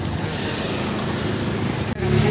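An auto rickshaw on a street, its engine a steady, loud, close rumble with road noise that cuts out for an instant and then returns.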